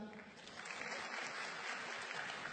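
Applause from the audience at an Indonesian stand-up comedy show, a dense steady clatter of clapping that fills the hall for a few seconds with some voices mixed in.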